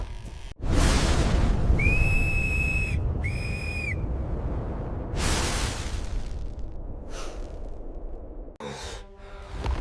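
Two clear, sharp whistle blasts, close together, cut through a dark rumbling and whooshing background at an abandoned camp in a found-footage horror scene. Other breathy swells and rustles surround them, and no one speaks.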